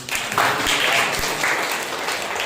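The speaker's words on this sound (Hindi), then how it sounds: "जी है और उनके लिए एक जोरदार ताली बजाएं।" A Sunday morning church congregation claps enthusiastically for a member named Ankur, a brief, dense burst of applause from many people with some lively crowd sound mixed in.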